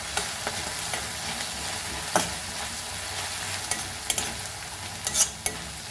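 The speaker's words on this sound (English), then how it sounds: "And fry the onion very," Onion frying and being stirred in a pan for a Goan cashew curry, a steady close sizzle with scattered utensil taps and scrapes throughout.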